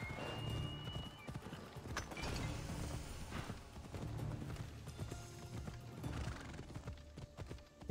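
A horse gallops in Assassin's Creed Odyssey, with a steady fast clip-clop of hooves running on and on at moderate volume and a whinny mixed in among the game sounds.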